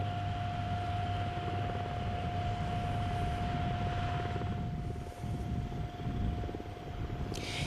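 A steady, droning helicopter engine over a wildfire, with a constant whirring hum, continuous and fairly loud, with no voices.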